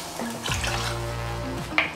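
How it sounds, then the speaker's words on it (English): Water being poured into a pot of washed rice while cooking Nigerian jollof rice, a short, close, steady splashing fill with a faint clink near the end. "So I will add water to"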